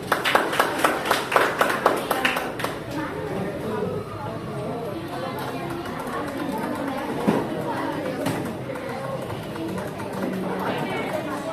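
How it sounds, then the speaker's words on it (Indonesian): Students in a classroom clap in a quick rhythmic pattern for a student group during the first few seconds, then the room settles into chatter and scattered voices. "Tepuk tangan buat kelompok 1."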